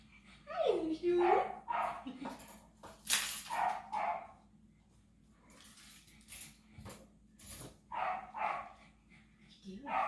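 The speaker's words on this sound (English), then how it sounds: "Puppy dog. Come here, puppers." Seven-week-old Russell Terrier puppies let out a whimper, then scattered yips and barks, close by, while a person talks over them.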